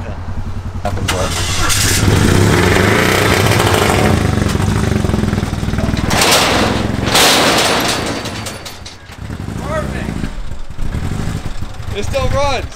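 A right-hand-drive car's engine keeps running after being driven off onto grass, revving loudly and roughly with a rising and falling roar while several people shout and talk over it.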